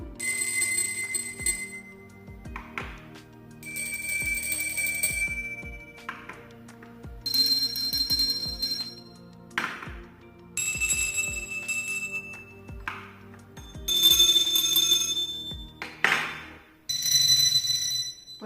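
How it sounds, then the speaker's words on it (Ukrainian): Small bells ring one after another, each with a different pitch, some louder and some softer, separated by short pauses. "ці дзвоники мають різну тональність. Вони по-різному звучать."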